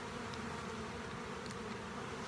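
Honey bees swarm around an opened hive, their steady, dense buzz filling the air at close range without pause, a continuous drone with no voices over it.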